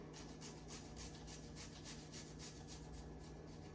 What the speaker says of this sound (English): all you do is just grate the garlic like this over the funnel